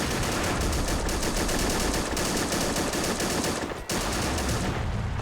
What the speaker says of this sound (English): We have got some MGs gifted by the Greens, some Brownings.